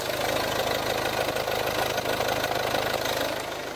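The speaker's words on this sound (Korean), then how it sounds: "디젤 엔진이기 때문에 휘발유 엔진처럼 굉장히 조용하고 정숙하진 않지만 이 소음이 실내까지는 들어오지 않는 차량이고요. 엔진 소음 먼저 들려드리면은" Volvo V40 second-generation D2 diesel engine idling with the bonnet open, a steady close, loud clattering drone with a knocking rhythm running unbroken throughout.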